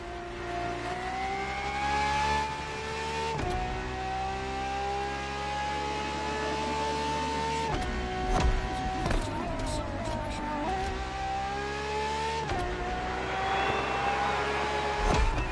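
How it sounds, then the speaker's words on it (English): A Ferrari research-and-development test race car from The Crew Motorfest screams at high revs, climbing through gears with sharp shifts and brief drops, loud and close throughout with no talk. "A Ferrari so extreme that it can never be driven on the road, nor qualify for any kind of official competition."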